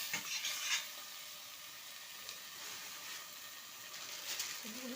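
Taro pieces being stirred in a pan on the stove, a soft scraping stir with gentle sizzling and hiss running steadily throughout, close and moderately quiet, no voices.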